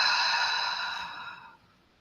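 A long, slow exhale during a breathing exercise, a breathy, airy whoosh that fades gradually over about a second and a half before falling quiet.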